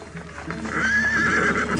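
Horses whinny and neigh with a long, loud call in the middle, over a steady clip-clop of hooves, as riders mount up to set off in a dramatized historical tale of Singasari and the fall of Kediri.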